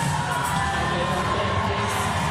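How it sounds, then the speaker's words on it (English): A dense crowd roars and cheers continuously at a Supertri E triathlon, a loud, steady wash of shouting and whoops with no break. "Roar of the crowd willing him to deliver one of the great runs"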